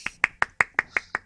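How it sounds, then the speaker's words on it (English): Seven sharp, evenly spaced claps in quick succession, close and crisp, from one person applauding a team during a gaming match. "We're going to give them clap for that."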